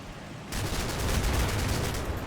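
Sustained gunfire from a World War II tactical battle in Combat Mission: Battle for Normandy, including machine-gun bursts, starts abruptly after a brief quiet moment and then continues as a steady, dense fusillade.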